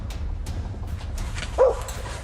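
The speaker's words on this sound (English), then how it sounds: "while a dog nearby the man filming starts barking" A dog barks once at close range near a moose in a wooded area, a short sharp yelp over steady low background noise with no talk.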